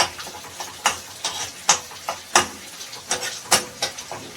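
Chopped onion, chili, garlic and ginger fry in a pan with a soft sizzle, broken by sharp, regular spatula taps and scrapes against the pan, close and loud.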